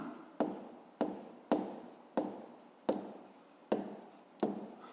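A pen moves across paper while a fifth-grade math exercise is written out, making seven evenly spaced scratchy strokes. Each stroke begins sharply and fades, and the quiet writing is heard alone.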